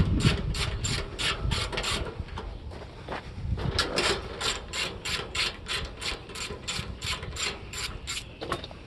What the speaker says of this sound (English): Just watching a bunch of screwing.